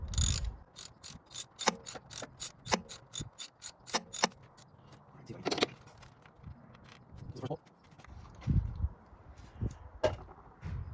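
A hand wrench works loose the bolts holding a car's thermostat housing, producing rapid ratchet clicks in quick bursts followed by scattered metallic knocks and clanks, close and fairly loud with no talking.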